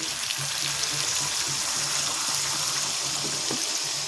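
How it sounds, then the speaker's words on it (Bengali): Water poured into a hot frying pan bursts into a steady, loud sizzling hiss that holds evenly throughout. "দিয়ে দিচ্ছি জল"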